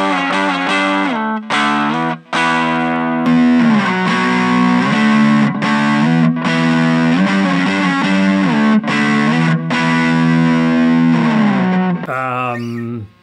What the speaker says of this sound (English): The Boss Katana has a brown sound.